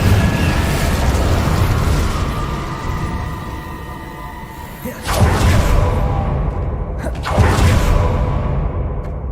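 Incendio fire spell in Hogwarts Legacy, a sustained loud roar that builds into two distinct whooshing bursts around five and seven seconds, each trailing into a fiery rumble, with no talking.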